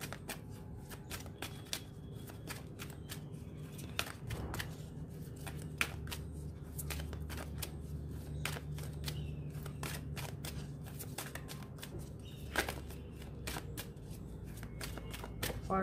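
Tarot cards are shuffled by hand for nearly sixteen seconds: a steady stream of crisp, close riffling flicks and slaps, with a few sharper snaps, in a quiet room.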